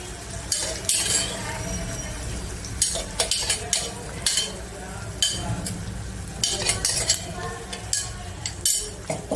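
A spoon stirs a Kathiyawadi-style pointed gourd (parval) curry with crushed peanut and gathiya powder, cumin powder and garam masala. Scraping and clinking against the pot run through a soft sizzle, in irregular bursts.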